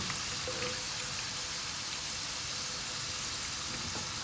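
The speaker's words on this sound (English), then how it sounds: "I'm going to fry the next lot" Potatoes for masala aloo frying in a pan of oil give off a soft, even, continuous sizzling hiss, quiet and steady throughout with no talking.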